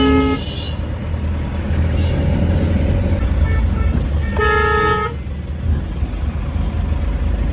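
Busy road traffic in India heard up close, with a steady roar of engines and tyres, a couple of sharp car horn toots cutting through, and faint voices underneath.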